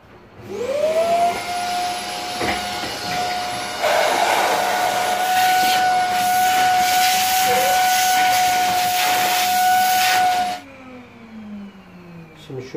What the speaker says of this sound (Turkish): Şimdi bu motorun içini süpürge makinesiyle bir çekeceğim öncelikle.